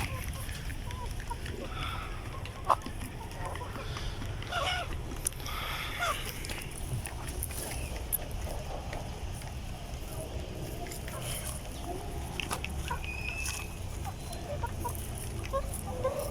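Rhode Island Red chickens cluck steadily over a continuous hum of the coop, with a few brief clucks and squawks rising above the chorus.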